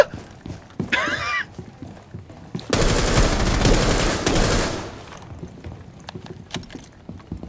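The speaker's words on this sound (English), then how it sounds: "that's Auntie Kelly that was shooting" Sustained burst of automatic gunfire in Rainbow Six Siege, loud and dense for about two seconds, with scattered single shots and faint clatter before and after; no speech.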